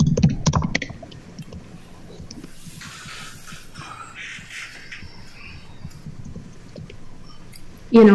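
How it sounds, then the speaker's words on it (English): Keys tapping on a computer keyboard during software data entry, a soft, scattered run of light clicks sitting fairly close under a faint background hiss, with a louder bump at the very start and end. "or you could type in here"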